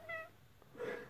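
A cat being held lets out two short, fairly faint meows close by, separated by a brief pause.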